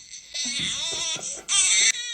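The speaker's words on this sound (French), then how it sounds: "Pourquoi j'entends des cris de bébé?" A baby cries loudly and close, in a sustained wail that breaks off briefly and then rises again.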